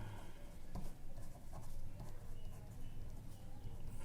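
Pen scratching across paper while a financial plan is written out, a faint continuous scribble of short strokes under low background noise.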